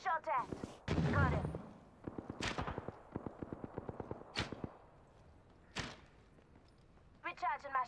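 Gunfire in Apex Legends rings out in sharp, fairly distant bursts and rapid single shots, with short pauses between volleys, mixed with brief game voice lines.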